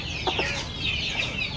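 Native chicken on a farm gives short clucks and soft calls, fairly close, over steady farmyard background noise.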